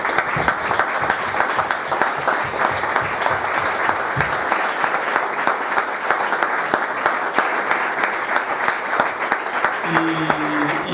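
Sustained loud applause from a large audience at the closing of a national plenary, dense and continuous clapping filling the whole stretch without pause.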